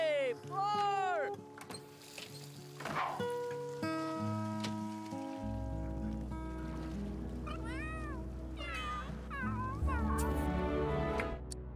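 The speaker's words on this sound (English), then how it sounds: "So the new pet's here, a new cat." A cat in The Sims 3 meows several times in short rising cries, heard over soft game music with a steady low tone and a person talking.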